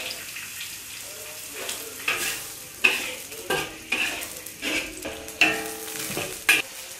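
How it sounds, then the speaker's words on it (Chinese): Ginger and garlic slices stir-frying in hot oil in an iron wok, a steady sizzle broken by repeated scraping and tossing strokes of the spatula, close and fairly quiet. "我们现在把姜片和蒜片放到油里面给它炒香。"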